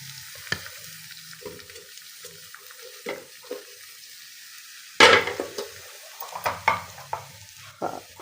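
Tomatoes and tinda pulp frying and being stirred in a pan, intermittent scraping and clinking of a utensil with soft sizzling and a sudden louder splash of sizzle midway, no voices.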